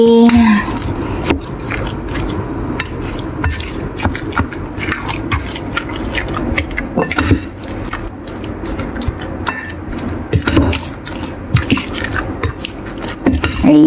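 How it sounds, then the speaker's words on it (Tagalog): Grated cassava, or tapioca, is stirred with coconut milk in a pot, giving a continuous wet, squelching churn with scraping and clicks of the spoon, loud and close throughout. "Kamuting kahoy or tapioca ay lagyan natin ng gata. Isang pakiting gata guys. So haluin muna natin."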